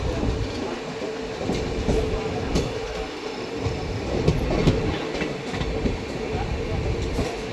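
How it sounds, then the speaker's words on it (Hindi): A passenger train hauled by a WAP7 electric locomotive runs past after dark on an Indian line, giving a steady, loud rolling rumble with rail clatter throughout, no voices heard. "अपने WAP7 के साथ कोई ट्रेन आ रही है"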